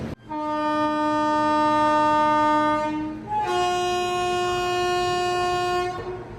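A WP7 locomotive hauling the Garib Rath Express sounds a long, loud, steady horn that breaks off and resumes at a slightly different pitch, alone with no talk.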